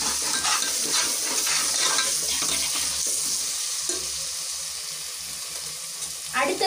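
Coriander and mint being stirred into a hot pan for mushroom biryani, a loud continuous sizzle with repeated scraping and clinking of a utensil against the pan, close by, with no voices.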